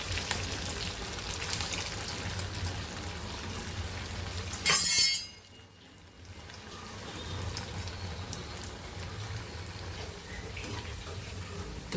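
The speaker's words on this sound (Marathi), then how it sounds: "इथं तेल तापलेलं आहे, यामध्ये वडे आपण टाकून घेऊ." Poha vadas drop into hot oil and fry with a steady sizzle, broken by a brief loud splash and a short lull before the bubbling picks back up.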